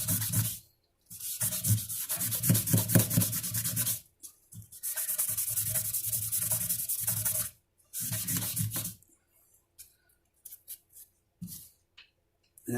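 A guitar bridge is rubbed with 220 grit sandpaper in long, rhythmic back-and-forth strokes, loud and close, broken by short pauses and ending in a few lighter, scattered passes.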